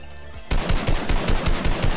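Rapid automatic gunfire in a video game, about a dozen sharp shots in a fast, slightly uneven burst after a brief quieter lead-in.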